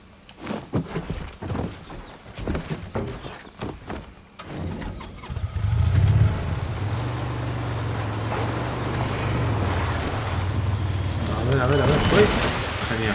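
A motorcycle in Far Cry 6 starts and settles into a steady, rumbling idle that holds for several seconds, following footsteps and someone speaking Spanish, with the engine growing slightly louder toward the end.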